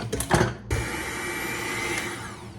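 Electric mixer whirring through lemon bar ingredients in a home kitchen, a few clattering handling noises, then a steady motor drone that runs continuously at close range.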